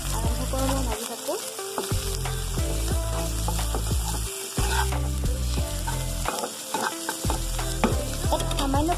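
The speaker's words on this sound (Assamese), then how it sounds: "এখিনি ভালদৰে লৰাই ভাজি থাকিম" Cabbage, carrot and onion being stir-fried for egg rolls, loud close sizzling broken by repeated scraping and clanking strokes of a spatula against the pan, with brief pauses between bursts of stirring.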